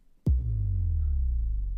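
An impact sound effect from FL Studio: one sharp hit followed by a deep, droning low boom that throbs steadily and fades only slightly, kept fairly quiet and heard alone.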